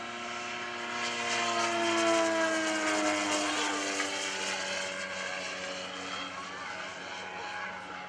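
A radio-controlled Super Cub scale model airplane flies at an airshow, its small engine droning steadily with rising and falling pitch as it passes, moderately loud and continuous.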